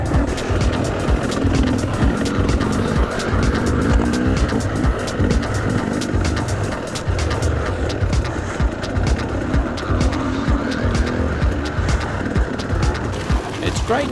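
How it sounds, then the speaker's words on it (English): A dirt bike engine run hard at full throttle during enduro cross training, a loud continuous revving drone with rapid pulsing across the whole stretch, steady and close without pause. "trying to decide whether to hit it full throttle in 3rd or 5th gear"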